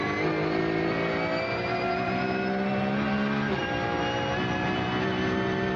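A Porsche Cup race car engine heard from the onboard camera during a race at Goiania, loud and constant, its pitch climbing through the gears with a brief dip around a shift, alone without talk.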